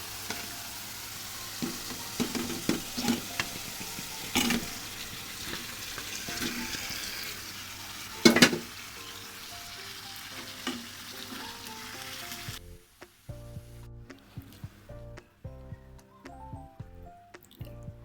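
Rohu fish head cooking with potatoes in a pan, a soft sizzle with wet drips and squishy stirring, including one sharp clatter partway through; the frying sound stops near the end and faint music-like tones follow.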